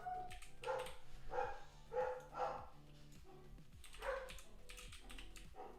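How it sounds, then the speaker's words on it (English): A dog barks in a nervous, anxious burst, several sharp yaps in an uneven rhythm, heard indoors at moderate distance with no talking. "Dog is having a minor panic attack."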